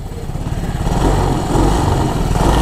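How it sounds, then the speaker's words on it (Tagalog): A 2021 Yamaha Mio Gravis 125 scooter with an air-cooled engine idles close by, a steady low exhaust putter that grows slightly louder partway through, with no talking. "Ang kanyang exhaust, pag pinakinggan ninyo, tahimik,"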